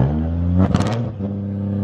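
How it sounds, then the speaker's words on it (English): A car engine hums and rises in a short rev while a friend drives, with a rattling clatter at the peak before it settles back to a steady drone. "I can't believe Adequate is driving my car right now"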